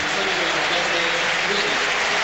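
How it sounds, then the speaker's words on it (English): A stadium crowd at a Real Madrid v AC Milan Champions League quarter-final applauds Ronaldo as he is substituted off, producing dense, sustained clapping that fills the whole stretch at a steady, loud level. "A round of applause for Ronaldo."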